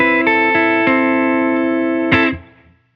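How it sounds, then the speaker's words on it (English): Electric guitar through a Benson Amps Monarch reverb: notes and a chord ring out with a lush reverb tail, a few picked notes then a final strum decaying into a long wash. "So I'm running into a Benson Amps Monarch reverb."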